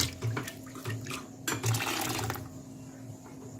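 Water poured from a mixer grinder jar into a cooking pot after grinding rice, a short splashing pour in the middle with quieter trickles and clinks around it, no voices.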